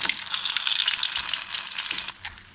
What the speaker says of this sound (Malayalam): ഇതുപോലെ നമുക്ക് എല്ലാം ഒന്ന് ഫ്രൈ ചെയ്തെടുക്കാം.